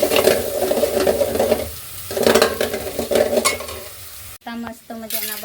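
Red pasta in a pan sizzles and hisses as a spoon stirs and scrapes through it, loud and close, before the frying cuts out abruptly near the end and short clattering follows.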